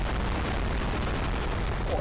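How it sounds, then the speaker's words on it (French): Explosions in the Vietnam War video game Conflict: Vietnam rumble as a heavy, sustained low boom filling the whole moment with dense, roaring blast noise. "le bruit d'explosion c'est horrible"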